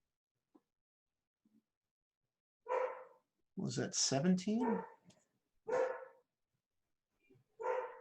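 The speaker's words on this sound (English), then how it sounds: "Oh, shut up, dog." A dog barking indoors in several separate short bursts at moderate distance, with someone briefly speaking in between.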